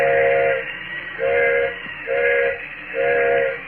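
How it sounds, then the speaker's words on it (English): Four repeated blasts from a steam train engine's whistle, each about half a second long and separated by short gaps, loud and steady, with no voices. "Engineer's whistling for a flagman."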